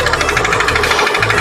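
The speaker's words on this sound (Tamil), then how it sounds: "இது வந்து இன்ஜின் நாய்ஸு" A faulty engine at risk of seizing gives off a loud, steady, rapid knocking clatter with a jackhammer-like rhythm, close up, with no talking.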